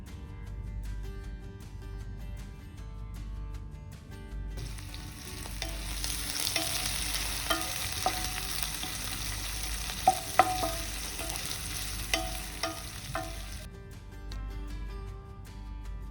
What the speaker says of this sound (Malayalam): ഇനി കുറച്ച് ജീരകം അതുപോലെ തന്നെ സവാള